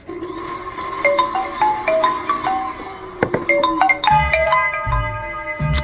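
A phone ringtone for an incoming call plays a bright, repeating melodic jingle of clear electronic notes, loud and close, with a few knocks and thumps around the middle and no talking.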